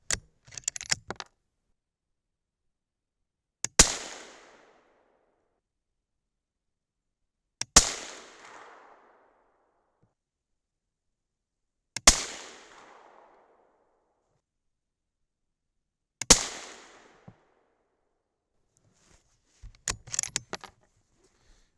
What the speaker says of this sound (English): 5 hang fires. Not exactly a good showing, but at least they went off.